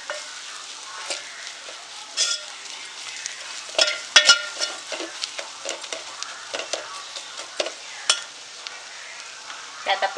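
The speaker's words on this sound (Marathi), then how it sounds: "आपण ह्याच्यामध्ये थोडंसं बेसन पण भाजून घेणार आहोत." Sifted gram flour roasting in a pan with cooked dill greens for a Maharashtrian buttermilk bhaji, with soft sizzling broken by repeated scraping stirs and clinks of a spoon.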